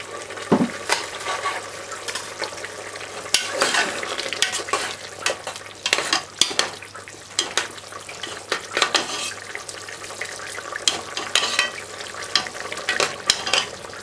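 Pepper steak simmers in a pot on the stove, with steady sizzling and bubbling under repeated utensil scrapes and light clatters against the pot, close and fairly loud throughout.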